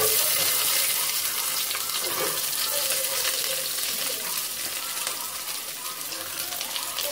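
Onions with curry leaves sauté in a pan, giving a steady, close frying sizzle with occasional stirring scrapes, with no talking.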